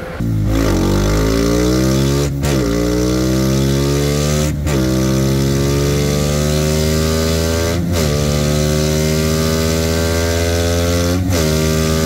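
Suzuki Raider 150 Fi motorcycle engine, freshly refreshed and remapped, revved repeatedly up and down, loud and close, with steady idle between rising pulls and no talk.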